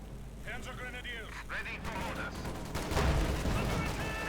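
Gunfire and bazooka blasts from the World War II strategy game Company of Heroes 2 crackle and thump in a dense, continuous battle din, with a heavier burst near the end under a commentator's voice.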